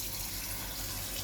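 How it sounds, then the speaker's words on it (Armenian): Cold spring water pours over soaked, washed beans in a pot, a steady rushing gush of liquid filling the vessel, continuous and close with no talking. "Թրջած լվացած լոբու վրա ես լցնում եմ աղբյուրի պաղ ջուր։"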